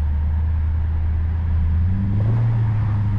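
BMW 750i V8 engine heard from the cabin during city driving, a low steady throaty drone with a slight rise in pitch partway through, continuous and close.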